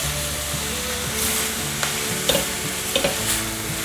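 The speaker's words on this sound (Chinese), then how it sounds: "快速翻炒。" Taro being stir-fried in a non-stick pan, a steady sizzle of hot oil with scraping spatula strokes and a few sharp clacks against the pan surface, close and continuous with no talking.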